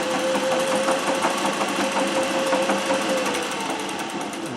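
Treadle-powered Singer 411G sewing machine with a custom balance wheel stitching a decorative pattern, a close, rapid, steady mechanical clatter of needle strokes that eases slightly toward the end.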